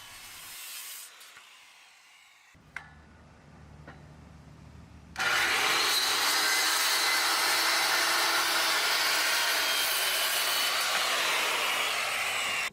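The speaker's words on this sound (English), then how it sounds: "trim the joists so that they are all nice and straight" A power saw trimming wooden deck joists, quiet rustling and a sharp knock before the saw starts abruptly and runs loud and steady for about seven seconds, then cuts off.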